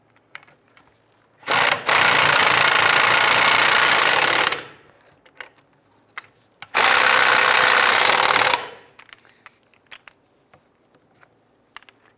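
A power tool snugs down the lower control arm bolts on a 2005-2012 Honda Civic, in two loud, sustained bursts of several seconds each, separated by a short pause, with no talking.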